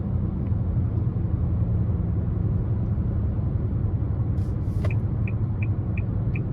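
Steady, dense rumble from inside a 2023 Nissan Altima 2.5 SR under throttle, a constant low engine and road drone with a few faint, short ticks near the end.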